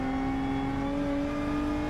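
A race car in Gran Turismo 7 on the Nürburgring holds a steady, over-revving engine drone at high pitch, a constant loud whine with little change across the short stretch.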